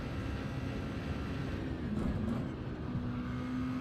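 Race car engines in a GT racing video game at Yas Marina make a continuous, even droning whine with a steady tonal hum and no talking over it.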